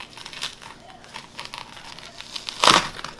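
A knife cutting into crispy roasted pork belly (lechon liempo) with crackling skin, giving a run of small crinkly crunches that build to one loud, sharp crackle near the end.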